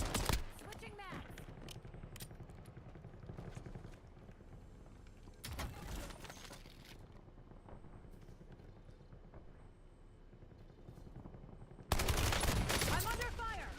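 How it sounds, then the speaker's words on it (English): Gunfire in Call of Duty Blackout: loud bursts of shots at the start, around six seconds and again near the end, with quieter scattered pops and game noise between. "I'm under fire."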